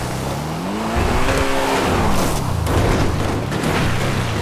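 A Lamborghini Urus tears along in GTA 5, its engine note rising and falling loudly with a screech of tyres and a heavy thud mid-run, the roar continuing steadily to the end.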